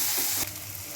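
Sliced onion and curry leaves sizzle steadily in hot oil in a pan as a tempering for kadhi, a continuous close hiss with a brief stirring scrape partway through.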